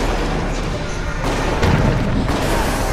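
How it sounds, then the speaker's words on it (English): A grenade explodes in the video game Resident Evil Operation Raccoon City, a deep booming blast rolling over a dense, loud background of game noise. "Throwing grenade."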